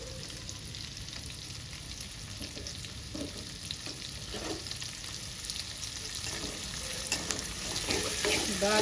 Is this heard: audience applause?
no